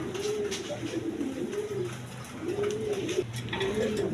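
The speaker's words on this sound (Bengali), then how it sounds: "এখানে এক পেয়ার রেড কালার শৌকিং কবুতর আছে" Pigeons, including a pair of red-coloured birds, coo in repeated rolling phrases close by, continuous over a busy background murmur.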